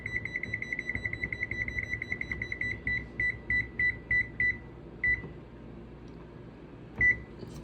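Kitchen oven timer being set: a rapid run of short electronic beeps that slows into spaced single beeps, then a final beep after a pause, over a low steady background hum.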